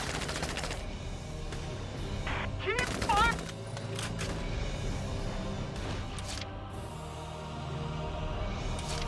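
Gunfire from the PC game Valkyria Chronicles 4 (2018): a burst of rapid shots up front, then a dense volley with sharp cracks around the three-second mark, followed by continuous battle noise and game music.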